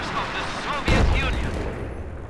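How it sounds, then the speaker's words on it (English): In the Company of Heroes 2 battle, propaganda artillery shells burst with a sudden dull boom that rises over a rumbling battlefield while a voice keeps talking underneath. "Large amounts of propaganda exploding over the heads"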